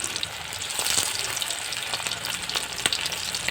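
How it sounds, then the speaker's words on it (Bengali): Pieces of chicken lollipop fry in a hot wok, a steady dense crackle of oil with occasional sharper pops, close and loud throughout with no talking. "তো আমরা এখন ভাজছি।"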